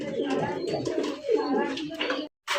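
Fancy racer Golla pigeons coo softly in a pair, low rolling calls close by, mixed with someone talking, ending with a short silent gap.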